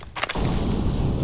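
An incendiary grenade thrown in Counter-Strike on the Mirage map: a sharp, loud burst, then a steady, dense roar of noise that carries on to the end.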